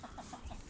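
Chickens cluck softly in a coop, a few short, low, evenly spaced clucks against a steady background hiss.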